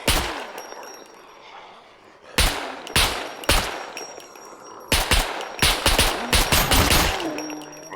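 An RPK machine gun fires in the survival video game SCUM: sharp, loud bursts and single shots come close together at near range, mixed with metallic clangs.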